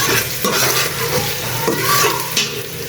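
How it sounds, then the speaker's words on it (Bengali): Onions fry in a pan with a loud, close, continuous sizzle while a utensil stirs them in repeated scraping strokes, and no voices can be heard. "পেঁয়াজগুলো ভালোভাবে ভেজে নিই"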